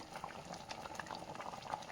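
White paneer curry boiling in a pot, with a steady stream of soft bubbling pops and small blips at a fairly low, even level.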